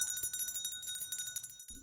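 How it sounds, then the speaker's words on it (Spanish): Small handbell rung in a monastery corridor, calling the friars down to the refectory for supper: a bright, rapid run of clear metallic dings with a sustained ringing tone, fairly faint, cut off abruptly near the end. "alguien pasó por el pasillo haciendo sonar la campanilla para bajar al refectorio a cenar"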